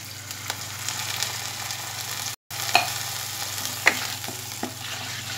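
Masala frying with a little water in a pan for dhaba-style dal, a steady close sizzle with a few sharp stirring scrapes and one brief gap.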